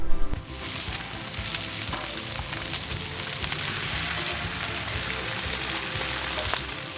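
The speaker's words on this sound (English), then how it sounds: "I'm going to put the bacon." Bacon sizzles on a Blackstone griddle in a dense, even crackle that holds steady for about seven seconds after a brief louder start, with no voices.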